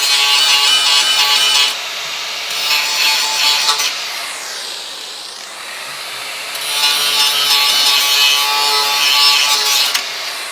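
Spot welds are cut out of a car's rear pan with a grinding tool, harsh bursts of abrasive metal noise alternating with quieter passes, loud and close.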